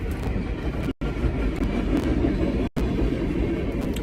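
A train passes close by, a loud continuous rumble and roar of wagons with rhythmic clatter, briefly cut twice, filling the whole stretch.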